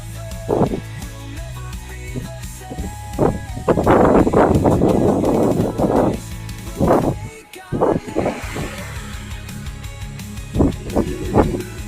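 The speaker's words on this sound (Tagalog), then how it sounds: "Mahangin talaga. Lakas ng hangin." Strong gusts of wind buffet the microphone while cycling at Maple Grove, in heavy rumbling bursts, loudest in the middle, with brief quieter gaps between gusts.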